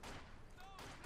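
Assault gun firing in Company of Heroes 2, a single dense muffled blast with rumbling tail heard faintly amid battle noise.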